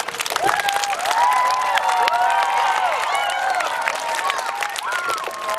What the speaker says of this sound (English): let's give a little round of applause for Michael Irvin